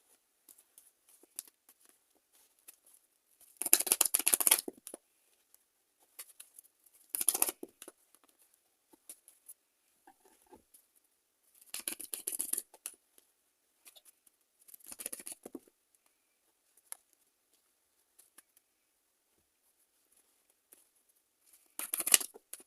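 Tarot cards are shuffled and drawn in separate soft papery rustling bursts, each a second or so long and close by, with near silence between them.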